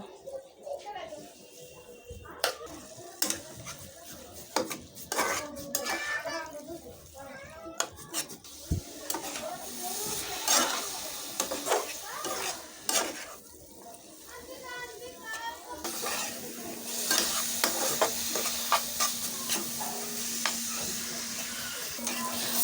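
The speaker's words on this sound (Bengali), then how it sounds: "এখন আমি এটাকে ভালো করে ভেজে নেব" Radish frying and stirring in a pan with spices, intermittent scraping clatter, a steadier sizzle building toward the end, with a person talking over it.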